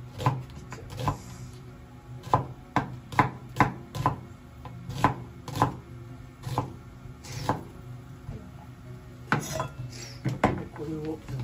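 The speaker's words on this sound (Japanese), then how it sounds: "玉ねぎはねまあ何でもいいんですけど、僕の場合はこういう感じで普通に切っちゃいます" A knife chops onion on a board for Japanese café-style Napolitan spaghetti: close, crisp taps in a quick, uneven rhythm, with a brief pause before a final flurry of cuts.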